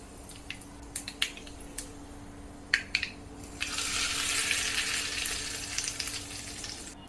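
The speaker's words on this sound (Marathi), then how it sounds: "अर्धा चमचा मोहरी घ्यायची छान ह्या तेलामध्ये तड तडून द्यायची आणि त्यानंतर कढीपत्त्याची पानं ॲड करायची" Mustard seeds and curry leaves crackle in hot oil: scattered sharp pops at first, then a sudden louder burst of sizzling spatter that keeps going with more pops, close by and with no one talking.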